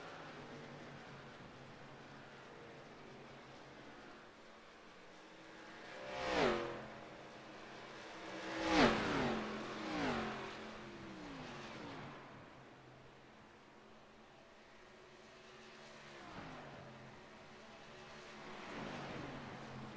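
ARCA stock cars racing at Kansas Speedway, engines roaring past in a few distinct swells over a steady distant drone, with quieter stretches between passes.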